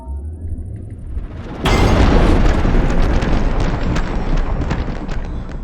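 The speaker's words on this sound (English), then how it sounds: "Next, we will create the explosion itself." A Minecraft explosion in the video game bursts in suddenly after a quieter stretch, a loud, booming blast that rolls on as a sustained rumble.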